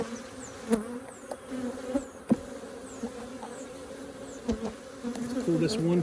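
Honey bees buzz around an open Flow Hive during a hive inspection, a close, steady drone with individual bees whining past, a few sharp knocks and handling bumps over the hum.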